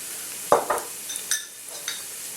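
Whole spices such as cinnamon and bay leaves, with garlic, salt and pepper, sautéing in hot oil: a soft continuous sizzle broken by a few sharp stirring scrapes and clinks of a spoon against the pan, close and fairly quiet.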